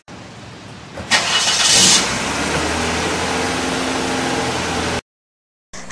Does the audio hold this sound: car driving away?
yes